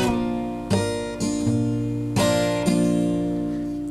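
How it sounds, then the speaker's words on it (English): Acoustic guitar played close and alone: a bar chord slides up the neck, then several sharp strums ring out, each decaying before the next, four or five distinct chord hits in a steady loose rhythm. "you're going to do the slide and it should sound like this"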